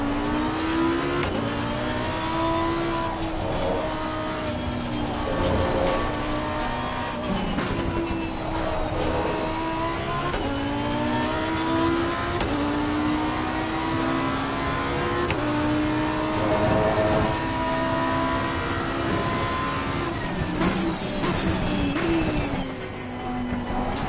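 Race car engine in Assetto Corsa Competizione revving hard with reverb bouncing off nearby walls, a loud continuous howl rising and falling through gear changes across the whole stretch.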